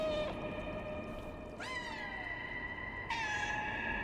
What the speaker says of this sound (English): No, they're just meowing from up there.